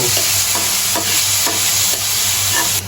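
Egg is stirred in a hot pan, a loud steady sizzle broken by a rhythmic series of scraping strokes roughly every half second, with no talk.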